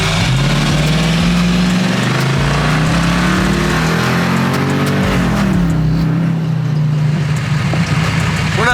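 A turbo Cummins diesel swapped into an OBS Chevy truck accelerates hard on a Baja Mexico desert trip, its loud engine note rising steadily in pitch, dipping at a shift, then climbing again.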